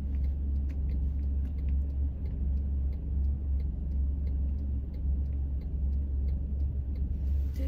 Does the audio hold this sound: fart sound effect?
no